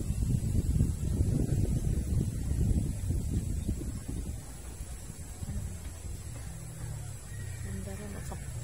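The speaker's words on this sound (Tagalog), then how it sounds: "lakas ng hangin dito" Strong wind blowing outdoors among trees beside rice paddies, a steady low roaring rumble with gusty buffeting across the whole stretch, loud and close to the microphone, with faint bird calls far off.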